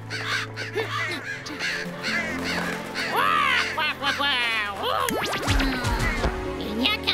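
Crow cawing in a French cartoon, harsh repeated caws mixed with cartoon voices and effects, loud and close.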